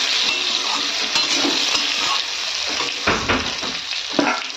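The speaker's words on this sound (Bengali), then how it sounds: "এখানে আমি আলুটাকে ভেজে নিলাম।" Potato pieces frying in hot oil for a fish curry give a loud, steady close sizzle, with a few scraping stirs near the end and no talking.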